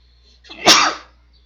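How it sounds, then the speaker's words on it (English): A single close, loud sneeze bursts out with a sharp peak and fades over about half a second, alone with no talk around it, recorded during a gaming session. "I had to sneeze."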